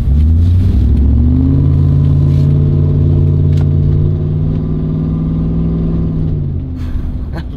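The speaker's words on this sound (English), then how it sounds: "This is such a good truck, you know. It's so noisy." A Ford F-150 pickup truck's engine drones loud and steady from inside the cab on UK roads, with a low rumble rising under acceleration and then easing off.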